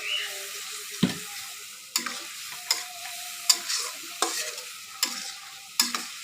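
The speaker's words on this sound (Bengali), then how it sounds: "সব কিছু দিয়ে আমি ভালোভাবে মশলাটা একটু কষিয়ে নেব দিয়ে দিচ্ছি কিছু টমেটো" Spiced masala with tomatoes sizzling in oil for a pangas fish curry, stirred in a pan with a spoon that scrapes and taps roughly every second over a steady close frying hiss; no voices.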